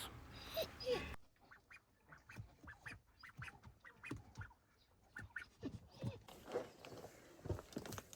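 A young farm duck quacks in quick, soft, repeated bursts, faint and close, with a few louder rustles at the start and end.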